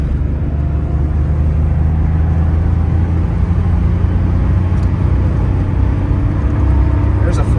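A 1984 Porsche 911 Carrera Targa pulls hard up to about 4,000 RPM into fifth gear on a freeway, with a loud, steady, low engine drone and road rumble heard from inside the cabin.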